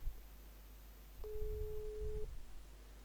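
A phone call gives a single steady ringback tone lasting about one second, waiting for pickup, over low background rumble and with no speech.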